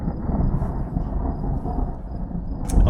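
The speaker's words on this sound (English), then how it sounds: "It's stormy. There's thunder and lightning." Thunder rolls through a stormy evening on a cycling tour in Algeria, a steady low rumble with no clear single crack. A brief brighter burst comes near the end.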